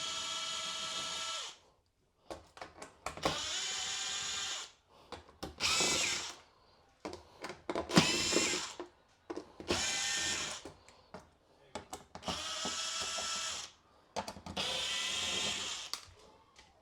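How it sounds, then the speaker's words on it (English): Power drill spinning out Phillips screws from an LG dishwasher, heard as a series of about eight loud whirring bursts, each a second or two long, separated by short silent gaps. "All of these screws needs to come out. They're all Phillips drill bit."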